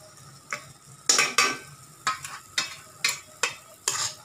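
Spices for paneer tikka, garam masala and chicken masala, get stirred and roasted in a pan: sharp scraping strokes of a spoon land in an uneven rhythm over a faint sizzle, close and fairly loud.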